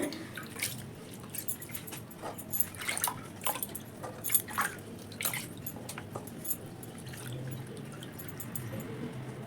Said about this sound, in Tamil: இப்படியே ஒரு கழுவி கழுவி தண்ணி வடித்து இந்த வடிகட்டி பாத்திரத்தில் போட்டு வச்சுக்கலாம்